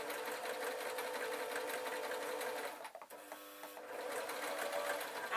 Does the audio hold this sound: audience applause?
no